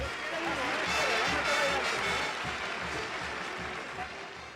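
An amphitheatre crowd applauds in a dense, continuous wash of clapping and cheering that slowly fades toward the end, with speech faintly audible underneath.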